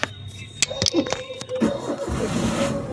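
A car engine revs lightly under the accelerator during a driving lesson, a low, uneven hum that rises toward the end, mixed with clicks and handling noises while people talk over it.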